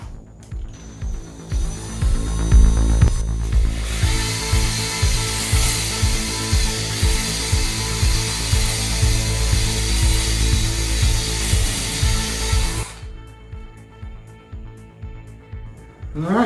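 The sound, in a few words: spinning hone in engine cylinder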